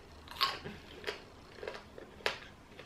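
Close, crisp bites into crispy Belgian fried chicken, with four or five crunchy chews and bites spaced through a quiet pause, no talking.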